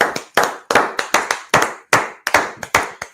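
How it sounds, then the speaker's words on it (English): Hands clapping at a class gathering, about a dozen loud, sharp, close claps in an uneven rhythm with short gaps between them, with no other sound between the claps. "Clap it up."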